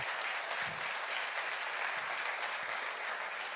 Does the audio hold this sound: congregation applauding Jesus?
yes